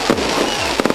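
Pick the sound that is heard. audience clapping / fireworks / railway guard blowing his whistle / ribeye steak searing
fireworks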